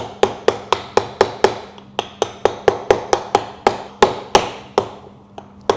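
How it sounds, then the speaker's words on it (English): A seafood claw shell is cracked with a long run of small, sharp taps, about twenty-five near and evenly spaced, each a crisp hard knock, with no talk. "You just do it all around, lots of little taps, and then it kind of just starts to break it down."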